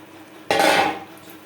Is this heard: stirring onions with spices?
yes